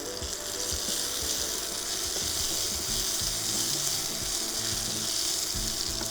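Vadagam tempering sizzles in hot oil for vathal kuzhambu, a dense, steady, close crackling hiss that runs unbroken throughout.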